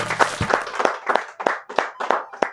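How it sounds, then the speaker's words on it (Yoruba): A studio audience at a quiz show claps for contestants, about nine clear, evenly spaced claps, crisp and close, with no cheering. "ẹ bá ń pàtẹ́wọ́ fún wọn."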